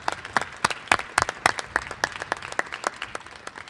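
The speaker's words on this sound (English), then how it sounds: "How about a nice round of applause for what they've done?" An audience applauds a school choir from the Elliott School and St. John's at an outdoor groundbreaking. The claps are sparse and distinct, fairly quiet and uneven, with no talk over them.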